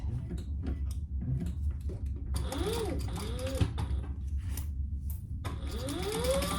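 Domestic sewing machine basting a fabric pouch about 1/8 inch from the edge, running in short mechanical bursts with pauses under a steady low background hum.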